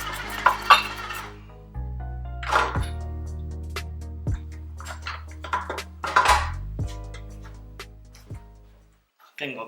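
Cooked glutinous rice flour dough being beaten and stirred in a bowl, giving repeated wet slaps and scrapes with occasional clinks of the utensil against the bowl, close and fairly loud with low hum behind.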